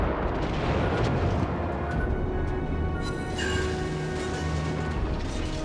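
Main guns of the battleship Kongo firing a salvo in World of Warships, a heavy continuous rumble of booming blasts that stays loud throughout, with a brighter burst and whistling tones midway.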